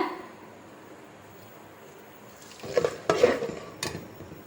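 A spoon scrapes and clinks against a metal pot of milk mixture in a few brief strokes after a quiet start, close by.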